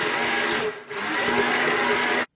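A blender grinds a hijiki powder juice made with milk and honey, giving a loud, close, steady whir that dips briefly near the start before cutting off abruptly at the end.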